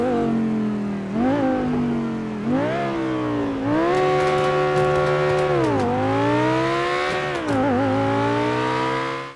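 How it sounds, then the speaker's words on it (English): An Obey 9R, an Audi R8 V10 styled supercar in GTA 5, revs hard and repeatedly bounces off its rev limiter, the loud engine note climbing, holding and dropping through several sweeps, with a downshift blip near the end. "Bounce it off the rev limiter. Nice little downshift."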